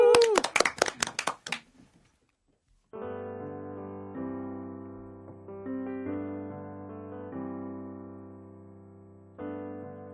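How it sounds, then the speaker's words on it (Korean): Studio audience in a Korean radio broadcast gives a short burst of clapping, a few close distinct claps that fade within two seconds, followed by keyboard chords after a brief pause. "박수를 청해 듣도록 하겠습니다"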